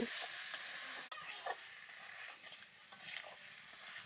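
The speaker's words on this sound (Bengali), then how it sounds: "এবার ভালো করে মশলার সঙ্গে আলু উচ্ছে বেগুনটা খুব সুন্দরভাবে কষে নেব" Potato, bitter gourd and eggplant are stir-fried with spices, giving a faint, steady sizzle with occasional soft stirring scrapes and light taps close by.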